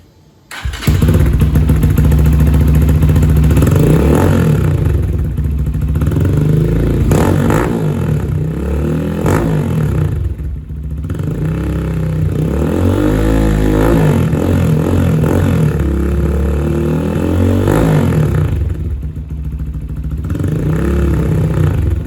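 A Lifan KPR 200 motorcycle with an upgraded exhaust and its baffle removed runs loud and close, its engine revving in repeated rising and falling bursts over a steady idle throughout.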